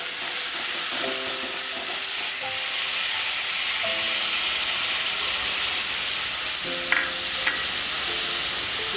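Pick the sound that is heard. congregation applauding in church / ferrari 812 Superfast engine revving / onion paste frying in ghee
onion paste frying in ghee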